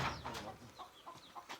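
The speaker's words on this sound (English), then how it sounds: "A chicken farm in Kigarama." Chickens cluck in short, scattered calls at a chicken farm in Kigarama, Rwanda, close by over a busy background of farm noise.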